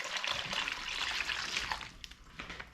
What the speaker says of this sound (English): we have all of this water that I'm spilling on the floor